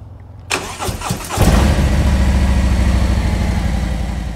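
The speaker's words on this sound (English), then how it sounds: "as you could hear, the bike will now start" A Harley-Davidson motorcycle engine cranks with a few quick turns, catches and fires up, then settles into a steady, loud, close idle.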